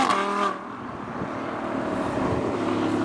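A Noble M12 supercar leaving a car show passes by, a loud engine roar up front that eases into a broad steady rumble with wind noise through the rest.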